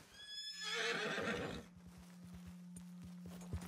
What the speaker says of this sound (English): But it did make my horse spawn, so cool.